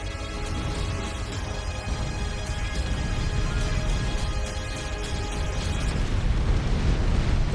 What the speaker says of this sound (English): Bombing run from Thor.